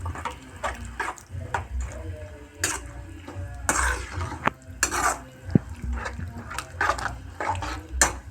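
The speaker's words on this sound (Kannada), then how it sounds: "ಇವಾಗ ಕ್ಲೀನಾಗಿ ಮಿಕ್ಸ್ ಮಾಡಬೇಕು" A spoon stirs palya curry with coriander leaves and a little water in a pan, with repeated scraping and clinking strokes at an irregular rhythm, close and fairly loud, against a low background hum.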